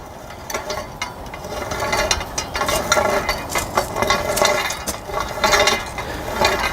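A spanner turns the rod of an India Mark II hand pump, making repeated close metallic ratcheting clicks and scraping clanks in an uneven rhythm over several seconds.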